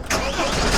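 A car engine cranks and catches, settling into a steady running note close by, loud and continuous through the short moment with no talk.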